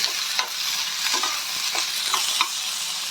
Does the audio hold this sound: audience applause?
no